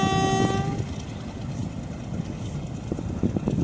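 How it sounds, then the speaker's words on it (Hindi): A train crosses a railway bridge after rain, its horn sounding briefly at the start before a steady rumbling roll of wagons carries on, fairly close and loud, with no talk. "वाह जी वाह, खूबसूरत मंज़र जी ट्रेन का।"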